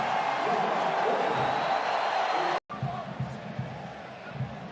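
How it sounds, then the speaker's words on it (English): A stadium crowd in Orlando roars as Arsenal's Saka comes onto the pitch, a loud sustained cheer that dips briefly and then continues as a broad wash of crowd noise under a commentator's talk. "And now the roar for him as he steps on."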